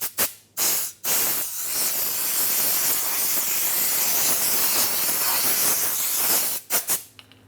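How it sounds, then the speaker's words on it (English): Compressed air blows hard on a Dodge Ram 2500 (2003-2009) brake hub during a parking brake shoe job, a loud continuous hiss with short sputtering bursts at the start and end. "Dry it off with compressed air if you have access to it."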